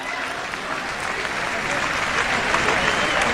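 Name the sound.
audience applause at an Urdu poetry mushaira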